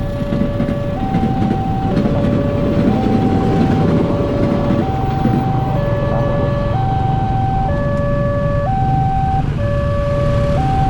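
A loud, steady rumble of a train passing a level crossing fills the scene while the crossing's two-tone warning signal alternates rhythmically throughout.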